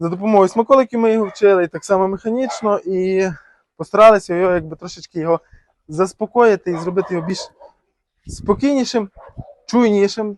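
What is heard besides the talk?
No everyday noises stand out.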